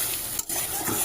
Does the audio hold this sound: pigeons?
no